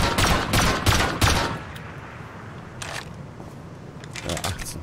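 Test shots from a firearm in the video game Rust, a rapid burst of sharp cracks in the opening second and a half, then scattered fainter shots later under voices.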